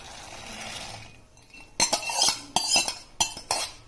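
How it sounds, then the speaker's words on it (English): Black eyed peas are tipped into a metal pot of cooking rasam, with a few clinking spoon-and-vessel knocks and rattles of utensils after a short hush, close by with no voices. "At this stage we will add this black eyed"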